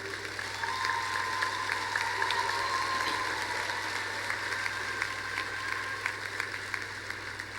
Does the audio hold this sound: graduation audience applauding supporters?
yes